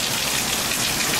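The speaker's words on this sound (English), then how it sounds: "Here comes the rain. Back up out here a little bit, but now it's pouring again." Heavy rain pours down in Florida, a dense, steady hiss of water that stays loud and unbroken with no voices.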